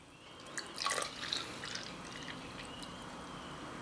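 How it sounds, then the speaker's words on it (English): A salt and celery popsicle mixture is poured into popsicle molds, heard as soft close drips and trickles over a faint background hiss, with no talking. "Now we're just going to divide the mixture amongst the popsicle molds."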